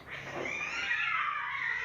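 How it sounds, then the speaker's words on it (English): A cat yowling as if under attack, one drawn-out, strained caterwaul rising and holding, fairly close and loud with nothing else over it. "Is that a cat?"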